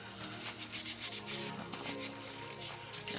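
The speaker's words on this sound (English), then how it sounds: "Alright, take and wipe these off. Again, just with the alcohol." Soft, quick rubbing strokes as polygel nails are wiped down with alcohol, a faint close-up brushing texture repeating in short bursts, no talking.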